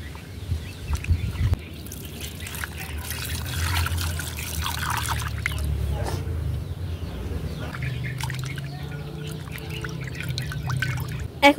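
Salted dried hilsa fish gets rinsed by hand in water in a village kitchen, soft trickling and splashing with occasional drips, fairly quiet with a low background hum.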